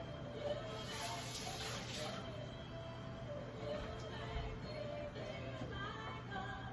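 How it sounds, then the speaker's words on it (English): A hand being rinsed under running water from a tap, a steady, fairly quiet stream with faint splashing throughout the short stretch. "I gotta rinse my hand off real quick"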